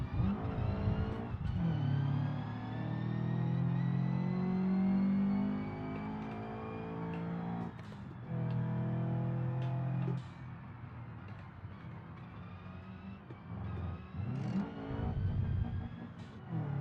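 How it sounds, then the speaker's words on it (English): A supercharged car engine in a racing video game revs and drones through shifting gear changes, with steady harmonic whine broken by brief scuffs and skids, continuous and fairly close. "I can hear someone's supercharger up there"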